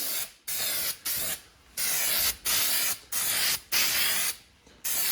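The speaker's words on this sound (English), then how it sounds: "We're just going to spray them down." An aerosol can of crack-detection developer sprays onto the cylinder heads of a 2000 Ford Ranger 3.0L in repeated bursts: about seven loud hissing blasts separated by brief pauses, close and with no speech.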